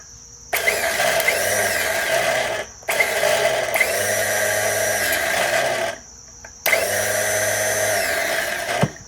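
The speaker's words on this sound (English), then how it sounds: "So now the starter is spinning, but the Bendix gear is not going up and grabbing the flywheel." Starter motor on a Kohler EFI V-twin engine whirs loudly in three long bursts of about two to three seconds each, spinning freely with a steady whine while its Bendix gear does not engage the flywheel. Short pauses separate the bursts.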